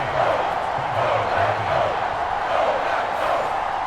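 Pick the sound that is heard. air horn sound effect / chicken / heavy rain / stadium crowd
stadium crowd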